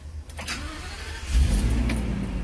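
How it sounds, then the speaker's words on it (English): A Blue Bird school bus engine cranks and catches after a few quiet clicks, then settles into a low, steady rumble close by with no talking. "So now I'm going to start the bus."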